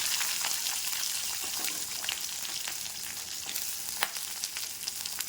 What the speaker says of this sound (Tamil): வெங்காயம் போட்டு அதை கொஞ்சம் நல்லா வதங்க விடலாம்.